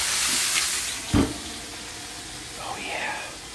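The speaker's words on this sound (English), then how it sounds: "steam those burgers like White Castle for a minute" Burgers sizzle and steam on a cooler-top grill during a hurricane, a broad steady hiss with a sharp burst of sizzle partway through, heard close and fairly loud, with faint voices in the background.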